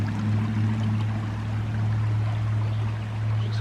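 Spring water pours strongly out of a rock face into a creek swollen by heavy rain, giving a steady close rushing stream with a deep constant rumble and no voices.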